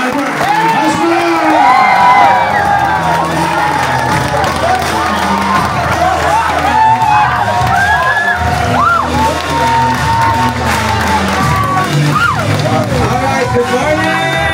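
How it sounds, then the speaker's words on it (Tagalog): A loud crowd cheers, whoops and claps for the top student at a school event, with children shouting and voices mixed throughout the sustained, noisy din. "Milong-milong palakpak para sa top 1, Albert Hasbula!"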